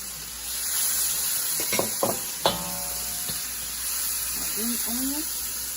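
Garlic and green onion frying in an oiled pan for a beef stir fry, a steady hiss and sizzle with a few sharp clinks of utensils midway and a short rising squeak near the end.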